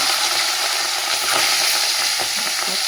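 Tangra fish frying in a generous amount of hot oil, a steady dense sizzle and crackle filling the whole stretch at even loudness, close up with no talking.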